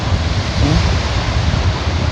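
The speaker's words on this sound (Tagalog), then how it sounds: "grabe ang alon dito" Sea waves crash in strong wind, a loud continuous roar of surf mixed with heavy wind buffeting the microphone, dense and unbroken throughout with no talk.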